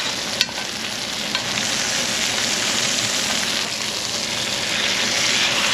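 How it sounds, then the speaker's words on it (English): A Wagyu steak sizzles steadily in a cast iron pan while being basted, a dense, continuous frying hiss with faint spoon scrapes, close and loud throughout with no talking. "You're gonna baste for about a minute on each side."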